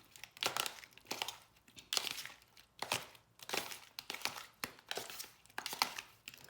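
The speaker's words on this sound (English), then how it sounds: "Gonna go ahead and stir it up" Seasoned shrimp with onion powder being stirred in a bowl, a series of soft wet crinkling scrapes in irregular bursts, close and quiet.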